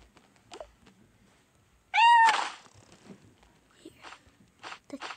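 A cat gives a single clear meow, loud and close, in an otherwise quiet indoor space with faint rustling and light movement around it.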